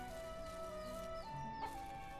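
Chickens in the Ranch Simulator video game cluck and chatter close by, with sustained tonal calls stepping in pitch over a steady low background hum.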